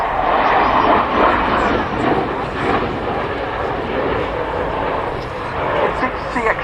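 Dutch F-16 fighter jet flying a display at an air show, a broad loud roar of jet engine noise sustained throughout, distant but powerful.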